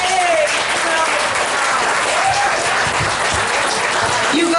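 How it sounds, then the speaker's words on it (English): An audience claps and cheers at a museum talk, dense sustained applause filling the room, with a voice speaking briefly over it. "let's give Renee a big round of"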